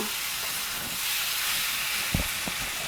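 Spice paste for shukto sizzles in a hot pan, a broad steady hiss with a couple of soft knocks of a spoon near the end.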